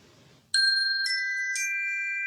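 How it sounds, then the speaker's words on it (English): A ding-dong-ding chime marks the end of a meditation exercise: three clear, ringing bell tones in quick succession, each sustaining and overlapping into a bright lingering tail, heard alone after a brief quiet moment. "the ding dong ding,"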